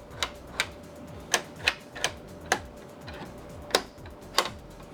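Sharp, dry clicks from the hazard lights of a Nissan Y62 Patrol tick at a steady, fairly even pace in a quiet car interior, close by and moderately soft, with no talking.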